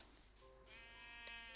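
A sheep in the video game Minecraft gives a single drawn-out bleat, fairly faint and alone.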